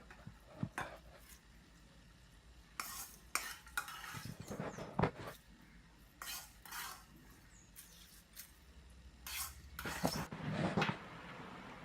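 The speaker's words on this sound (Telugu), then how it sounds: "వండిన అన్నంలో ఇప్పుడు మనం తయారు చేసుకున్న మిశ్రమాన్ని కలిపి" Cooked rice being mixed with a tempering mixture for pulihora gives off soft, scattered scraping and clinking of a spoon against the pot, coming in irregular short bursts amid quiet stretches.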